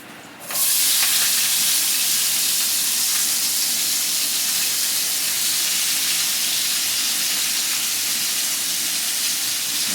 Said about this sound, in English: Cook the peppers and the onions.